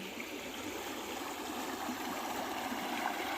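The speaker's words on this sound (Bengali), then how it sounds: "আর জলটা দেখো খুব ফোর্সে এখন পার হচ্ছে" Stream water rushing forcefully over rocks in a hilly area, a steady broad roaring flow heard close up and without pause, no one talking.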